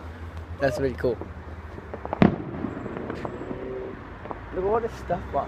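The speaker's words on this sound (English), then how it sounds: "crazy fireworks going on behind me" Bonfire Night fireworks go off in the background, with one sharp bang standing out among scattered distant pops and crackles under near, excited talk.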